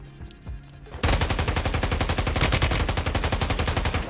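Rapid automatic gunfire from a shooter in Warzone Mobile, starting after a second of quiet background and continuing as a loud, steady burst of evenly spaced shots to the end.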